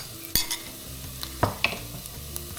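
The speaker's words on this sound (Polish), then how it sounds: "Wrzucam cebulę i podsmażam około 2 minuty." Onions frying in a pan for bigos with chicken, a low steady sizzle under a few sharp clinks and scrapes of a utensil stirring now and then.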